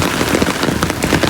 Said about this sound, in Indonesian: Udah agak lumayan kecil hujannya